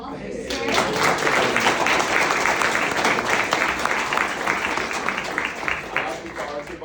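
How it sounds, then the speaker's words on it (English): Sustained applause from an audience at a community college leadership summit keynote, a full crowd clapping continuously with some voices audible underneath. "Let's get an applause for Dr."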